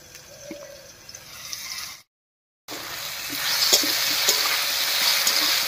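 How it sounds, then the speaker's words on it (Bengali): Potatoes frying in a pan give a steady close sizzle with small crackles, broken by a short silent gap, then a louder sizzle after the lid comes off. "আলুটা বেশ কিছুক্ষণ রান্না হয়ে বেশ কিছু ভাজা ভাজা হয়ে গেছে।"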